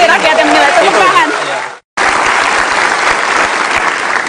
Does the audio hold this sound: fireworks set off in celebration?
no